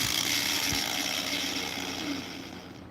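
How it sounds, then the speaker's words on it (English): A Dremel rotary grinder carving wood whines steadily and loudly at close range, its high buzzing tone holding for nearly the whole stretch before easing slightly at the end. "the grinder's covering my voice"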